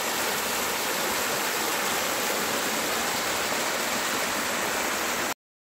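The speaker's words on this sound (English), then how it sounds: "Waterfall in the jeep safari with a nice view right from the plantations." A waterfall near tea plantations in Munnar rushes in a dense, continuous roar of broadband water noise, steady and close, with no voices, before cutting off abruptly.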